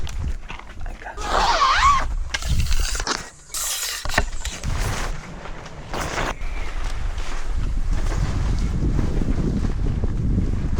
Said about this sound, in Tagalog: Presko nga dito, mahangin. Kasi nasa taas tayo ng bundok.